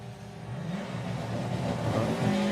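A drag racing car engine revs and builds steadily in the distance at Santa Pod Raceway, a low droning roar rising slightly over a couple of seconds.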